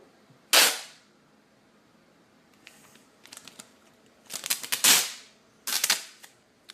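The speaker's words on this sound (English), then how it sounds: "that's the sound of shipping tape being pulled" Shipping tape is pulled off a roll in several loud, abrupt rasping bursts, close and alone, with short pauses between pulls.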